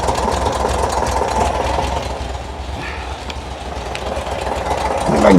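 A 1972 VW Bus air-cooled engine with a new 38mm carburetor idles low and steady, a close, continuous rumbling drone with faint rhythmic ticking and a slight swell near the end.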